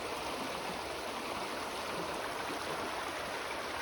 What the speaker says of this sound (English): this is just one really cool looking river